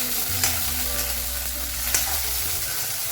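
Vegetables such as radish and green peas sautéing in oil make a continuous close sizzle, with light stirring scrapes at a couple of points and no speech.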